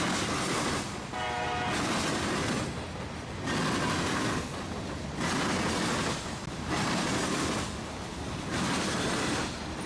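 Freight train Q613, hauling sulfur tank cars and empty covered hoppers, rolls past close by in Florida, wheels thumping in a regular loud pulsing rhythm as each car goes by, with a brief tonal squeal near the start.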